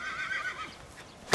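A young foal on a Romanian horse farm whinnies in a clear, bright neigh lasting about a second, close to the listener, before a short sharp noise at the very end.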